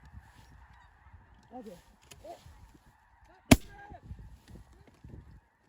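Snow geese honk continuously in a large flock during a South Dakota goose hunt, a dense clamor of calls with one sharp loud gunshot in the middle and a brief spoken word.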